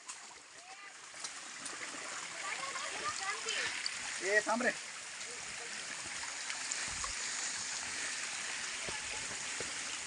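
Water splashing and rushing at a waterfall stream on a rough forest path, a steady broadband wash throughout with a louder splash burst partway through, while several people talk and call out over it.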